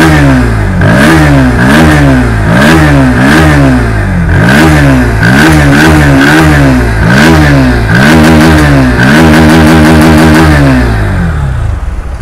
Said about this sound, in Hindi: इसका मैं आपको एग्जॉस्ट साउंड को सुनाता हूँ।